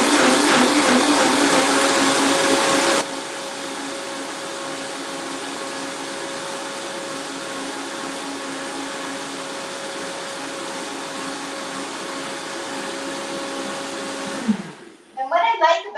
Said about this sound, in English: what I like about the Vitamix in this particular instance is it really gets it super, super velvety